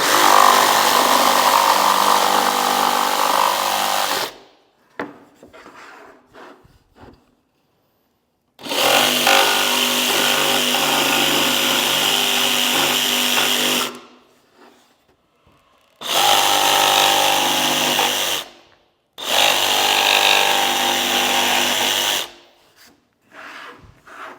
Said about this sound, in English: I'm just going to trace out that line with the jigsaw here